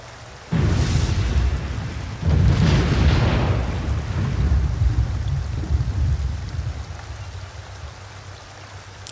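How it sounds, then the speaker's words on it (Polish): Steady rainfall in The Sims 2, a dense, close hiss that swells in two heavier surges early on, then settles into an even, continuous downpour. "Deszcz pada."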